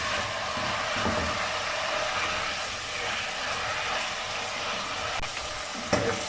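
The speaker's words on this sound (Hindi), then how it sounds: "तकरीबन 1 मिनट के लिए इसे अदरक लहसुन के पेस्ट के साथ भूनेंगे" Mutton sizzling with ginger garlic paste for a homemade mutton korma, a dense, even hiss of frying heard close and continuous, with a couple of brief clicks near the end and no talking.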